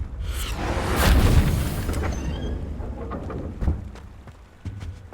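A Confringo blasting spell in Hogwarts Legacy erupts as a loud, rumbling blast that swells about a second in and slowly fades, followed by a few scattered, smaller thuds.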